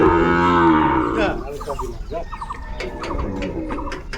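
Sahiwal breed bull calves on a farm let out a loud, close, drawn-out moo, followed by quieter bird coos and rustling livestock sounds.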